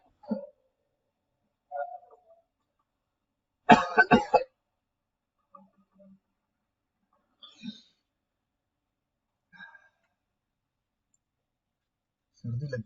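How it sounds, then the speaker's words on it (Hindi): Short bursts of coughing and throat clearing, one loud harsh cluster in the middle and several faint scattered coughs around it, with quiet gaps between and no talk. "खांसी कर लो अच्छे तरीके से।"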